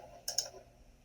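A computer mouse double-clicks in an accounting software session: two quick, crisp clicks close together, fairly near and clean, with no talking.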